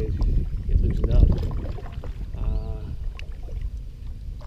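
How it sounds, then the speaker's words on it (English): Paddle strokes on water from a 2017 Manta Ray Propel 12 kayak, close soft splashes and swishes under steady wind buffeting the microphone. "Quick paddle out."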